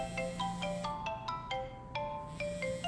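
A mobile phone rings in the game Crime Scene Cleaner, its bright electronic ringtone repeating a short melodic phrase over and over above a faint low hum, with no talking.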